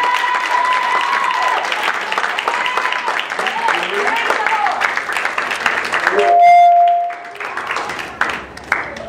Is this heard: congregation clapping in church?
yes